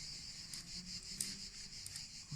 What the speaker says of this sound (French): on entend le bruit des grillons